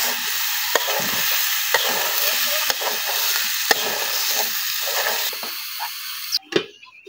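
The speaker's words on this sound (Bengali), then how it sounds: "কাঁকরোলটা দেখেন সুন্দরভাবে কষানো হয়ে গেছে" Pointed gourd (kakrol) sautéing in a pan gives a loud, steady close-up sizzle, with a few light spatula taps along the way and a brief clatter of the pan near the end.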